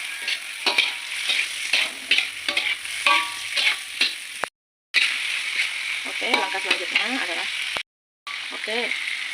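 Chicken liver being stir-fried in a pan, a continuous sizzle broken by repeated scraping stirs of a utensil, close and fairly loud, with two brief silent gaps and what may be faint voice-like tones in places.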